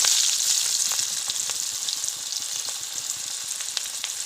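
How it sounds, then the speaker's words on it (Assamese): Drumstick flowers with garlic and onion fry in hot oil in a wok, giving a continuous loud sizzle broken by small crackles and stirring clicks, with no voices. "এতিয়া আজি আমি ছজিনা ফুল ভাজিছোঁ"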